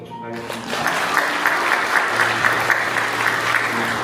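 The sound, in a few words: congregation applause celebrating infant baptism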